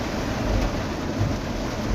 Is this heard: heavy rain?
yes